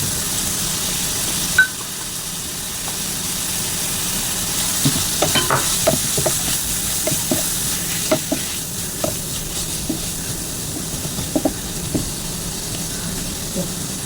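Fish fries in a pan as a steady sizzle and hiss, with scattered sharp pops and crackles of hot oil throughout.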